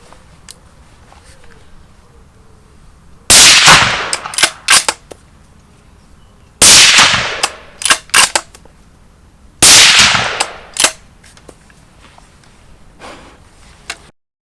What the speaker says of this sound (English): Let's just see how the gun cycles.